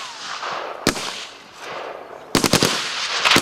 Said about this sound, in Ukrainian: здійснено 8 пострілів.